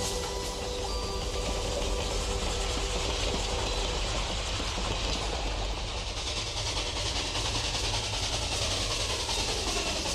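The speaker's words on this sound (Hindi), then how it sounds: "8 down Saharanpur Lucknow passenger train में सवार क्रांतिकारियों ने चेन खींचकर ट्रेन को काकोरी स्टेशन के पास रोक लिया" A passenger train running steadily, a dense, continuous rumble and hiss of rolling wheels with faint clatter, evenly loud throughout with no clear slowing or stop and no voices.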